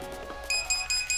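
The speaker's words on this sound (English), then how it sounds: "what you hear is a 3-beep warning" An electric skateboard speed controller running on a 6S battery sounds its low-voltage warning, a run of short, clear, high electronic beeps that starts halfway through, close and distinct over a faint hum.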